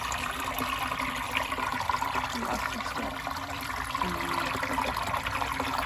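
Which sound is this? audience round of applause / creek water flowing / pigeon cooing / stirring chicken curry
creek water flowing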